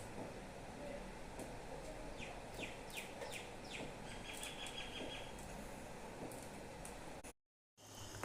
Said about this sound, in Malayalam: നിങ്ങൾ ബാക്ക്ഗ്രൗണ്ടിൽ കേട്ടിട്ടുണ്ടാവും അല്ലേ പക്ഷികളെ ശബ്ദം